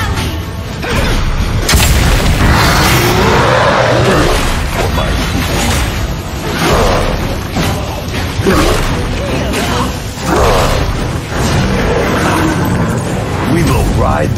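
In the Arena of Valor video game, a tower is destroyed with heavy booming crashes and rumbling impacts that rise and fall, loud and close, with game voices speaking over the din.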